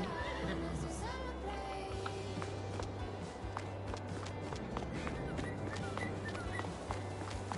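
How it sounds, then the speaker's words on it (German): Horses in a small pasture in Farming Simulator 22, whinnying and neighing over soft hoof clops and a low repeating hum, fairly close and steady throughout. "Hier sind nochmal Pferdchen, kleine Pferdeweide."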